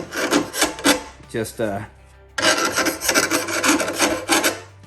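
A hand file rasps burrs off a lawn mower blade in quick, rhythmic back-and-forth strokes, close and loud, pausing briefly partway through while a voice speaks a couple of words.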